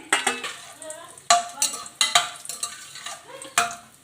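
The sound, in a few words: spices and cashews frying in ghee and oil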